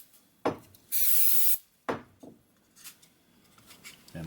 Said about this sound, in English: Then I'll spray the accelerator on the board.